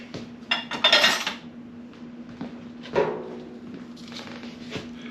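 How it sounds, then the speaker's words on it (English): Utensils scraping and clinking in a bowl while a chuck roast mixture is stirred, a few bright metallic clatters followed by quieter scrapes with a steady hum underneath, no talking. "And now we stir it up."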